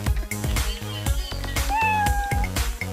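A cat meows in the Roblox video game, with a few rising and falling mewing calls rising over loud, bouncy party music with a steady beat.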